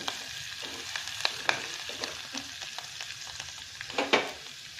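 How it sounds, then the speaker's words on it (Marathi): Phodni, a spiced oil tempering, sizzles softly in a pan as coriander leaves are added, with a steady frying hiss broken by a few sharp crackles and spoon-stirring scrapes, quiet and close. "आता मी इथे थोडीशी कोथिंबीर टाकणार आहे फोडणीमध्ये"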